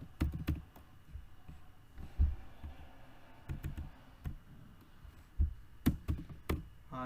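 Computer keyboard keys tapped in short irregular bursts of close, distinct clicks and thumps, with pauses between clusters and no voices.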